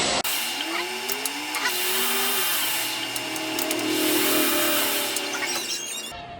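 A Grizzly G0752 10x22 variable speed lathe spins at 1400 RPM, giving a steady, close motor whine and hum that holds evenly with faint mechanical rattles over it.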